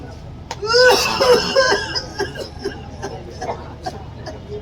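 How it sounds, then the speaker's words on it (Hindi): A person coughs in a short burst of several rough, loud coughs close by, with voices and background chatter of a casual comedy scene continuing underneath. "खांसी हो रहा है।"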